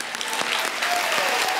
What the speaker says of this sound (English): Let's have another round of applause for Lisa Bloom.